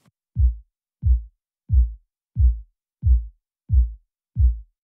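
A reggaeton kick drum processed with the R-Bass harmonic bass enhancer hits seven times at an even, steady pulse, each a deep, punchy thump with a quick decay and silence between strikes.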